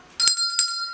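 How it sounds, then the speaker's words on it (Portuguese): A small handbell tuned to a musical note is struck once, ringing out with a clear, bright tone and a quick second tap, then a sustained ring fading slowly in a quiet room. "Se você possui os sinos das notas musicais, você pode trabalhar com eles distribuindo um sino para cada um"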